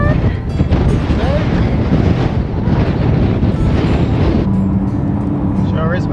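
Strong wind buffeting the microphone on a bleak Icelandic pebble beach, a loud steady roar with gusts and possible surf beneath, continuous for several seconds with a voice briefly audible.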